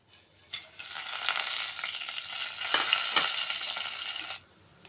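Cinnamon and cloves dropped into hot oil in a pressure cooker: a sudden, bright crackling sizzle swells up, holds steady for a few seconds with a brief burst of spitting, then cuts off abruptly.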